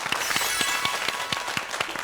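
Studio audience applause on a Korean TV talk show, dense steady clapping from many hands at moderate volume, continuing evenly throughout.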